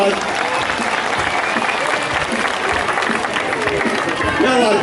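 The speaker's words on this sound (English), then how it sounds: "Let's give Akasha another big round of applause" A crowd at a tiger show claps loudly and steadily after a tiger's dive, the applause dense and continuous, with some voices mixed in beneath it.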